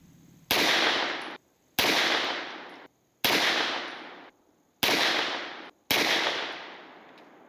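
A Staccato HD P4 pistol fires 124 grain Gold Dot rounds at a 25-yard range, five loud sharp shots evenly spaced about a second and a half apart, each trailing off in a brief echo, with no talking.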